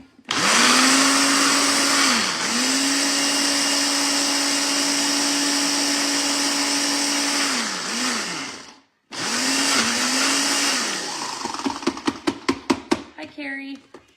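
Cottage cheese pureed in a blender gives a loud, sustained motor whir that dips and restarts, stops briefly, then runs again before ending in a series of knocks and clatters.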